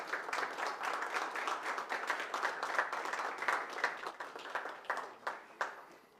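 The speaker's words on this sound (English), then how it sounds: "let's give him a round of applause for joining us and gracing us with his time" An audience at a summit applauding the Ambassador: sustained clapping from a crowd, moderately loud and steady, with a few individual claps standing out as the applause tapers near the end.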